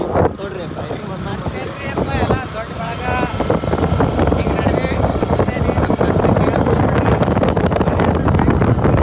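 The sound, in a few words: motorbike arriving, engine running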